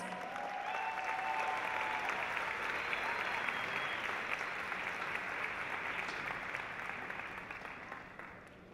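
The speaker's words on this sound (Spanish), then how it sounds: "Dale fuerte el aplauso al Señor." Audience at a church event applauding steadily, a dense, loud wash of clapping that holds for most of the stretch, with a brief voice near the start, before thinning and fading toward the end.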